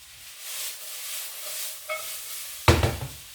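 Chicken sizzling in a hot pan with rice vinegar, a steady soft hiss that swells briefly near the end as the pieces are turned and flipped, no talk.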